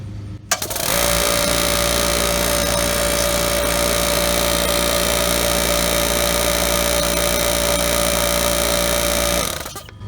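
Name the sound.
air compressor running, trying to build pressure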